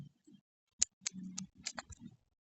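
A handful of separate key clicks and short taps from a computer keyboard while a search query is entered into Google, irregular and fairly close, with soft low thumps between strokes and no talk.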